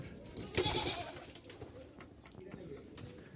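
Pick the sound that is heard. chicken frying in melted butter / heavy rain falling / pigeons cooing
pigeons cooing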